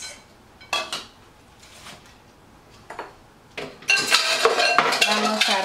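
A chicken curry salad with apple, vegetables and almonds gets stirred in a bowl: scattered utensil clinks and taps give way to a busy, close run of scraping and clattering near the end.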